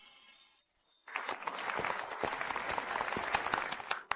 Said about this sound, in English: Even President Zhao took the lead in applauding